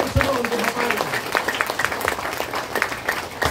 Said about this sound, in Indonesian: Tepuk tangan semua untuk bapak Alika.